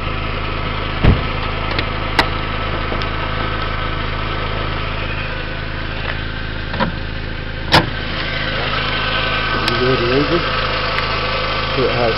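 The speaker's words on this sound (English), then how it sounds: "let's open the hood so you can hear the engine." With the hood open, a 2002 Volkswagen Jetta engine idles in a steady, even hum heard close up, broken by a few brief clicks and taps.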